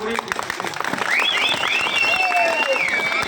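Audience at a Tamil arangetram dance debut applauding and cheering as a student honours his guru: dense, continuous clapping close by, mixed with loud voices and high wavering tones over the top.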